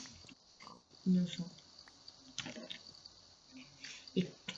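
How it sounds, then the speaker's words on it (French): A small pig in a modded video game is struck, giving two short, loud grunting squeals about three seconds apart over a low background murmur. "Donc on va buter ce petit cochon innocent."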